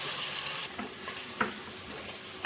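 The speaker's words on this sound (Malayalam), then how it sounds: "ചെമ്മീൻ ഇപ്പോൾ ഫ്രൈ ചെയ്യാൻ ഇട്ടിട്ടുണ്ട്." Prawns frying in hot oil for a prawn biriyani make a faint, steady sizzle, with a few soft clinks and one sharper knock partway through.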